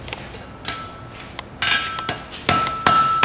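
A farrier's hammer strikes a hot steel horseshoe at forging temperature on an anvil, a series of sharp metallic clanks at irregular intervals, close and fairly loud, with ringing blows growing heavier toward the end; no talk.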